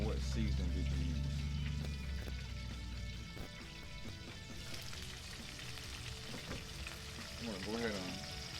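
Chicken wings fry in hot oil with a steady crackling sizzle while a spoon scoops them out, bubbling continuous and close; a person talks over it throughout.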